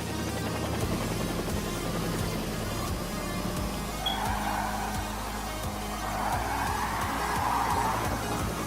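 A race car in Gran Turismo Sport roars at full throttle with a dense, continuous engine note and tire noise, loud and close throughout, without audible talk.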